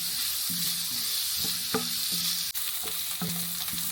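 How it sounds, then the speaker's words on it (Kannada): Onions fry on medium flame for a ridge gourd curry, a continuous bright sizzle with a few rhythmic spatula strokes against the pan, close and steady, no talking. "ಅಂದರೆ ಆಲ್ಮೋಸ್ಟ್ ಒಂದು 3 to 4 ಮಿನಿಟ್ ನಾವು ಈರುಳ್ಳಿನ ಫ್ರೈ ಮಾಡಬೇಕು"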